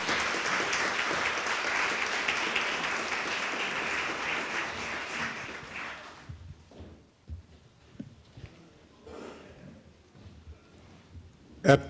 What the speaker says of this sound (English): Let's give our young people a round of applause.